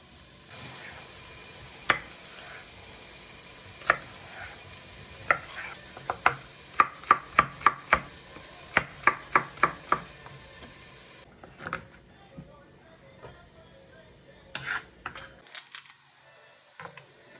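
Sweet pepper being chopped into small pieces with a knife on a cutting board, a series of sharp, close knife strikes in quick bursts, faster in the middle and trailing off into a few scattered taps.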